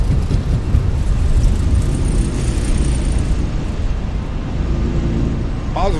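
Loud, steady jet engine roar from an Airbus A319 accelerating down the runway and lifting into a climb in a flight simulator game, continuous and broadband throughout with little variation.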